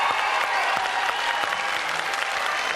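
Studio audience applauding a contestant on a French TV variety show, a dense, steady wash of clapping that stays loud and continuous throughout with no talk over it.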